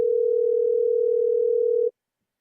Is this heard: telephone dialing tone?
yes